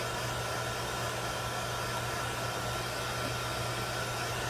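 A blow dryer dries wet chalk paste on a transfer, a loud, steady, close rushing whoosh with a constant motor hum, running alone without talk.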